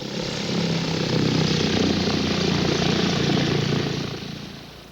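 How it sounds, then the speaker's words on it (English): A propeller-driven airplane drones steadily overhead in Canada around 1909, its engine rising to a loud, close roar at the middle and fading away at the end. "the first flight in Canada by a powered airplane"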